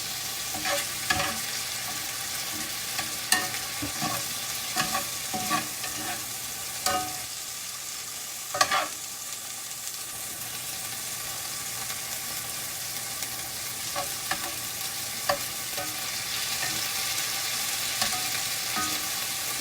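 Meat browns in a pan for a Philly-style flatbread. A steady sizzle runs for about twenty seconds, broken by periodic sharp clicks and scrapes as the pieces are turned, with no voices.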